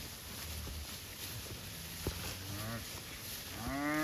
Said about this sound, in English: We got about 4 black cows in this herd.